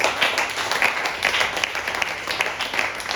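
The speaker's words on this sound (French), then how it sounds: "nous acclamons le Seigneur" A church congregation applauds the Lord during a service, steady sustained clapping from many hands filling the room throughout, fairly loud and close, with no break.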